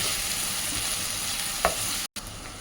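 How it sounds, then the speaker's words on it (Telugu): Sliced onions, green chillies and curry leaves fry in a pan for mutton liver curry, giving a constant close sizzle with a stirring scrape near the middle and a brief cut-out just before the end. "ఇదిగోండి ఉల్లిపాయలు సగానికి వేగినాయి."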